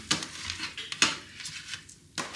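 Garlic bread going into a Ninja Foodi pot, with a few clattering knocks and scrapes against the metal at close range and soft rustling between them, no voices.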